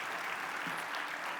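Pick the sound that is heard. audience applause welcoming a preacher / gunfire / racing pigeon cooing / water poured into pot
audience applause welcoming a preacher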